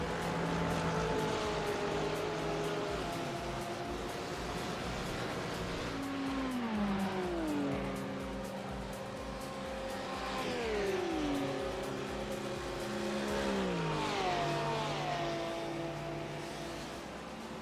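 GT3 race cars, among them a Porsche, racing at Road America in a sim-racing game, engines droning loudly and continuously with repeated gear-shift pitch drops as several cars run close together.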